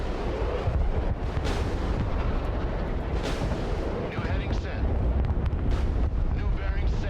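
Artillery units firing in the war game Broken Arrow, loud booming blasts and rumbling explosions over constant wind-like roar, with a voice talking over the barrage.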